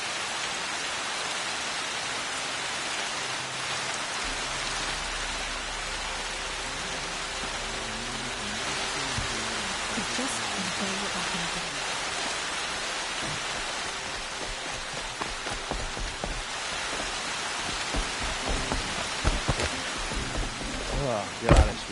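Steady rainfall hisses in the video game Horizon Zero Dawn, a dense, even wash of rain that runs throughout, with a few louder knocks and rustles toward the end.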